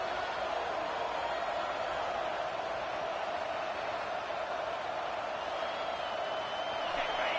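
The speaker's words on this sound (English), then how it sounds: "This crowd bringing the energy and noise early." A large college football stadium crowd at a Florida State vs Notre Dame homecoming game roars in a steady, continuous wash of noise, loud and unbroken throughout, with no clear individual voices standing out.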